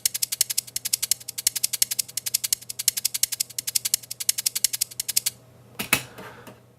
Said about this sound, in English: in here we've got Gas Bill Shaker